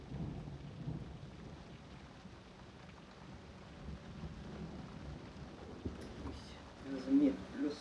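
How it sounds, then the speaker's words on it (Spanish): Thunder from a storm rolls as a faint, continuous low rumble, swelling slightly near the end, with a hint of rain beneath it. "Dios mío, los truenos."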